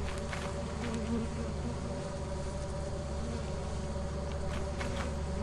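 Constant buzzing of bees from a beehive in the video game Lethal Company, a dense insect drone over a low steady hum, with no talking.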